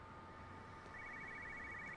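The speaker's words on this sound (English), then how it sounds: "a phone ringing." A phone rings in Everybody's Gone to the Rapture, a faint warbling electronic trill that starts partway through over a quiet low hum.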